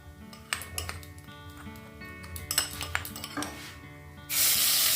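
Utensils clink and scrape against a pan, then a loud, steady sizzle erupts near the end as ginger paste mixed with turmeric and salt hits hot oil.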